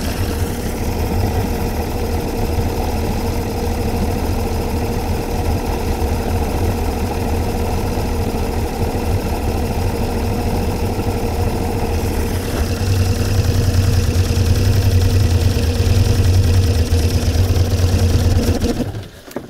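Suzuki DT55 outboard motor running in gear, a loud, steady droning engine hum held close for the whole stretch, swelling slightly louder in the second half before cutting off abruptly at the end.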